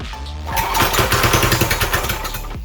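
A stretched mini bike engine runs with no exhaust fitted, starting up after a brief quiet lead-in and then revving in a loud, raw, rapid putter that pulses unevenly for a couple of seconds.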